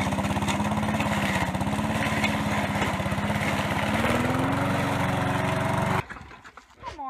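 A lawn mower engine runs loud and steady up close, a buzzing drone with a slight rise in pitch, then cuts off abruptly near the end, leaving faint rustling.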